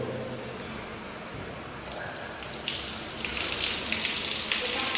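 Shower water streams steadily at a traditional sulphur bathhouse in Georgia, a soft hiss that swells louder after the first couple of seconds, with no voices.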